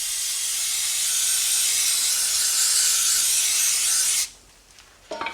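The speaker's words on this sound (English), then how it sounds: "And then I spray the hub." A steady loud hiss of Fluid Film aerosol lubricant sprayed onto the rear brake hub of a 2018 Honda Accord lasts about four seconds and then cuts off, followed by a brief faint clatter.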